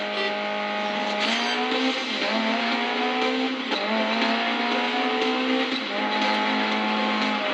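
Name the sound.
race car accelerating in Grid Legends video game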